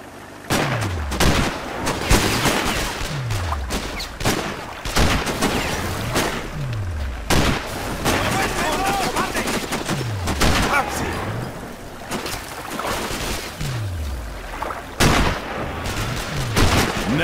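Repeated rifle gunshots from the Sniper: Ghost Warrior video game, sharp booming reports spaced every second or two across the stretch, loud and punchy with echoing tails.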